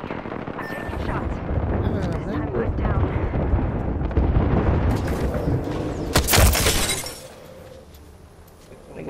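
Video game gunfire from a triple take sniper rifle, sharp cracking shots and shattering impacts in a dense, loud firefight, with a voice talking over the action before it fades quieter.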